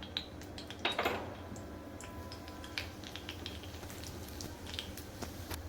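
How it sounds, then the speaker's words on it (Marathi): Faint, scattered crackling and popping of cumin seeds spluttering in hot ghee, with a few light clicks and a soft clatter early on. "जिरं आपलं छान तडतडायला लागलंय"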